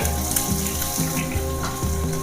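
Finely chopped shallots sizzle in oil after mustard seeds have popped, a steady close frying hiss with regular rhythmic pulses and a faint tonal hum underneath.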